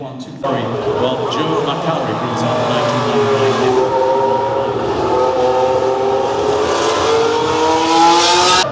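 A high-pitched 2000–2004 Ferrari Formula 1 engine roars continuously at the Monaco Historic Grand Prix, its pitch climbing through gears as it speeds past, loud and close.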